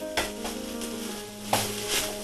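Okra stir-fried in a pan for a Kerala mezhukkupuratti, a steady soft sizzle with a few sharper stirring scrapes near the start and middle, close and moderately loud with no talk.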